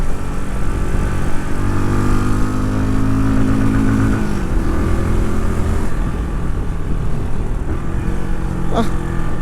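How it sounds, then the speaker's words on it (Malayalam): QJ SRC 500 motorcycle exhaust, a loud continuous engine drone that rises and falls with throttle while riding, heavy wind rumble throughout and a short sharp mechanical sound near the end. "എക്സോസ്റ്റ് നോട്ടും കൊള്ളാം കേട്ടോ. ഇതിൻ്റെ പ്യുവർ എക്സോസ്റ്റ്."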